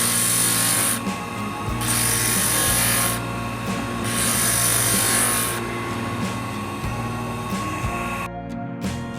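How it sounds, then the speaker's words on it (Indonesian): Steady rasping and rubbing of sanding on a hard coconut shell being made into a ring, with a power drill whining in bursts over it, close and continuous. "kemudian kita hamplas di sini."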